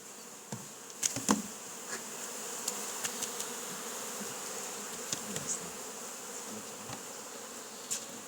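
Honey bees buzz around hive boxes during colony packing, a dense, continuous hum of many bees close by, with occasional soft knocks and bumps of wooden frames and boxes.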